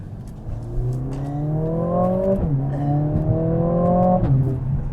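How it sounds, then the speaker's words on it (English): A Mercedes-AMG CLA 45 pulls hard, its engine and exhaust note climbing in pitch through two strong acceleration runs with a brief drop between them, loud and close with no one speaking. "because that exhaust system just sounds so good"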